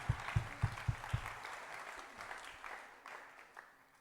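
A congregation at a church service claps in a quick, steady rhythm. The handful of sharp, close claps fades into a softer, scattered crowd noise.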